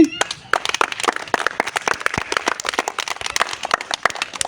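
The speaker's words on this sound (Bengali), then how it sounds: "হ্যাঁ, সকলে হাততালি।" An audience claps at a village tyre-rolling game, a lively burst of scattered hand claps near the listener that fills the whole stretch, with a brief voice at the very start.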